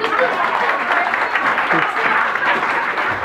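Applause at a New Year's Eve party breaks out for a raffle winner, a crowd clapping steadily for a few seconds with voices mixed in.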